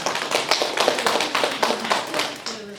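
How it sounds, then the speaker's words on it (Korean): An audience at a Korean soy sauce and doenjang making class applauds the organizing staff, a brisk, close burst of rhythmic clapping lasting a few seconds with no talk. "우리 팀장님하고 주무관님한테 박수 한번 주셨으면 좋겠어요"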